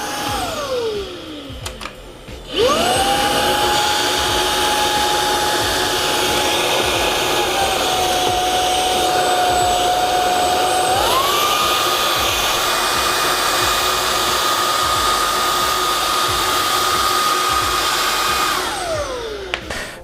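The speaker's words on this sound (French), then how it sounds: "je vais lui faire aspirer cette traînée, cette ligne de sel qui est assez épaisse sur les 3 différents niveaux de puissance" A Proscenic P11 cordless stick vacuum running on auto mode while sucking up a thick line of salt from the floor: a steady, loud whining motor hum that starts up, holds, shifts to a higher pitch partway through, then winds down at the end, with no talk.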